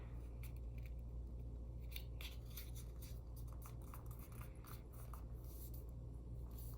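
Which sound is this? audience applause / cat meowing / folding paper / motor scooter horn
folding paper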